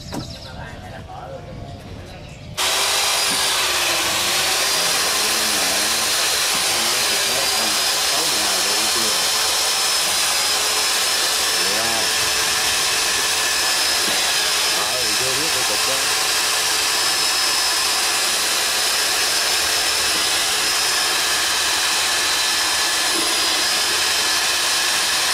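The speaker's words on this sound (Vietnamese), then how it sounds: "bây giờ khoan lỗ mấy con sò nha các bạn" A power drill whines loud and continuous for a long stretch, boring holes through seashells on a boat, after a brief quieter start.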